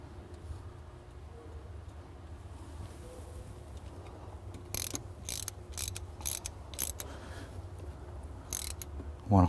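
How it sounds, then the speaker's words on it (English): A nut being tightened by hand onto brittle thermostat ground wires, giving faint clicking and ratcheting taps that cluster in the second half over a quiet background hum, ending in a louder knock. "Want to hold them so they don't turn while you're turning the nut."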